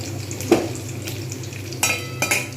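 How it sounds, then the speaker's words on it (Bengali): Pointed gourd (potol) fries in a pan beside potatoes and rohu roe fritters, giving a soft, continuous sizzle broken by a sharp utensil clink and a couple of brief scraping stirs, close and without speech. "আর একটা মিনিট অপেক্ষা করব যাতে আরেক দিকটা সুন্দরভাবে ভাজা হয়ে যায়"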